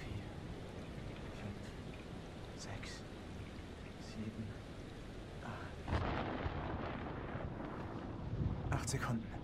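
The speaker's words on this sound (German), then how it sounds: "Der Sturm ist 8 Meilen weg." Thunder from an approaching storm in the video game Man of Medan: a continuous low rumble with rain-like noise, swelling into a louder, rolling crash near the end, with talk over parts of it.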